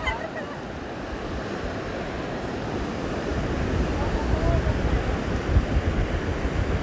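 Ocean surf rumbles steadily on the beach at Reserva do Paiva in Cabo, Pernambuco, Brazil, with wind buffeting the microphone and the wash of the waves swelling slightly louder toward the end.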